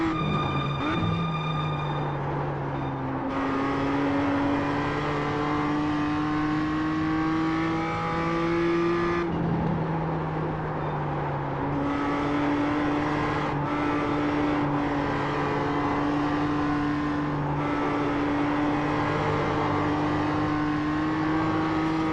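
BMW M2 CSR engine on a hot lap at Willow Springs in iRacing, loud and close, with steady rising revs, repeated upshifts and throttle lifts into corners, running continuously without a break.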